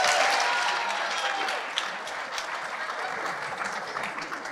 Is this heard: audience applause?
yes